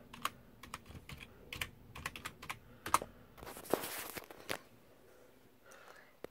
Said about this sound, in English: let me just put in my password.